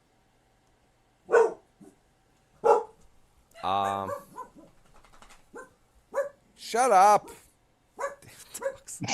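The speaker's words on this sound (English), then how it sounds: "These dogs are just barking." Dogs barking in short separate bursts with a whimpering yip, fairly close, spaced across a stretch of quiet while a person talks in between.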